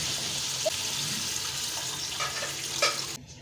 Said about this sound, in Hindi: अब इसमें हम ग्रेवी के लिए पानी डालें।